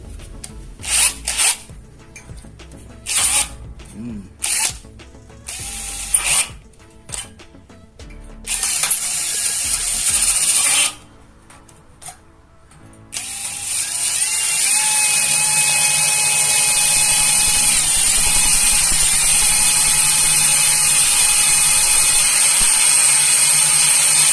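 A Kamolee 10mm cordless brushless drill has its chuck turned and loosened by hand, giving bursts of rapid ratcheting clicks separated by pauses, then a long steady mechanical grinding whir that runs to the end, close and loud, with no talking.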